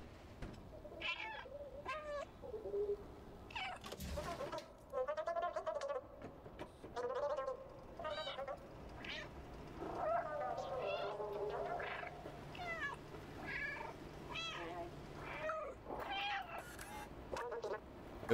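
A cat in the game Stray meows again and again, a long run of separate mews and drawn-out cries spread across the stretch, some close and some softer, with faint game ambience underneath.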